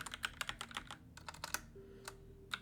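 Rapid, close keyboard typing entering a file name for a React Native component, with a quick series of key clicks, a brief pause and a few more taps.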